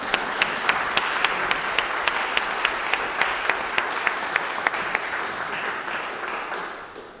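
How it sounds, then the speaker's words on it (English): An audience at a memorial celebration applauds in a sustained, dense wash of clapping, with a few sharp, regularly spaced claps standing out near the front before the sound tapers off at the end. "Can we give my mom another round of applause?"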